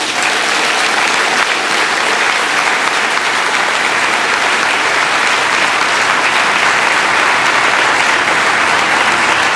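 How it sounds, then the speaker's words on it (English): Loud, sustained applause from a large audience at a formal ceremony honoring peace negotiating panels, dense continuous clapping filling the whole stretch without a break. "Please join me in applauding and honoring the work of the GPH and MILF peace negotiating panels."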